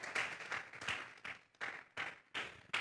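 A church congregation claps in a praise offering during a service, with several bursts of hand claps separated by short pauses, heard at a moderate distance.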